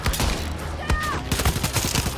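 Rapid bursts of gunfire from the video game Far Cry 6, sharp overlapping shots in a dense volley, loud and close, with a brief whistling tone in the middle and no speech over it.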